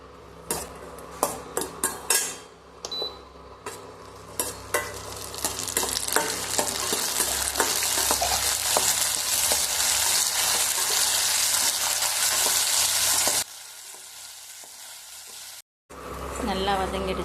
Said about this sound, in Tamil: நல்லெண்ணெயில் தான் வதக்கணும், அப்போ தான் நல்லா ருசி கொடுக்கும்.